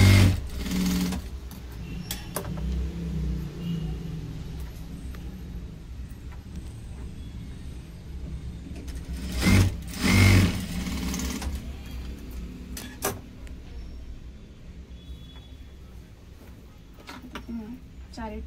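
A domestic sewing machine stitches tucks into a size 32 blouse, running in steady bursts with brief pauses, while someone talks over the whirring motor throughout.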